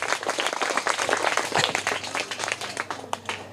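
Young third-grade schoolchildren in a classroom clap loudly and unevenly for a quiz winner, a close, scattered patter of small hands that loosens into separate claps toward the end.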